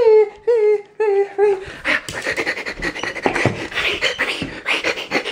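A dog whimpers and yips in several short, high, whining bursts close by, then scrabbling, panting and scratching noises follow as the excited dog moves about.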